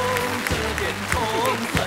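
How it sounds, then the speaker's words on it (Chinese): Studio audience on a Chinese dating show claps together, a dense wash of applause running throughout while a host's voice carries over it. "我们用掌声祝他早日康复。"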